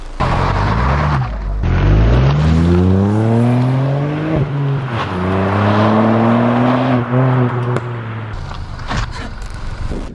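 A Ford Puma ST's turbocharged three-cylinder engine revs hard while driving, climbing through several gears with rising and falling pitch, loud and close with no talk.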